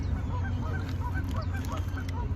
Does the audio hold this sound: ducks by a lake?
yes